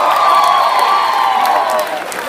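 Wedding guests at a country club reception fill the room with loud cheering and whoops over scattered applause, a dense, continuous crowd roar.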